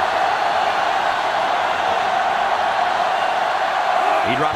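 A stadium crowd in the NCAA 2005 football video game, Ohio State against Michigan, roars as a dense, steady wash of noise that stays loud throughout the whole stretch.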